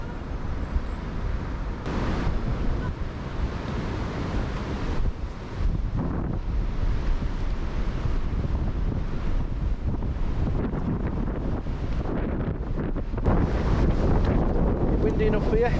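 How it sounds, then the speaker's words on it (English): Strong wind on a coastal country walk near Ravenscar at Fylingdales Country Park: loud, constant buffeting wind roar across the microphone with gusting surges throughout, no clear talking. "Windy enough for you?"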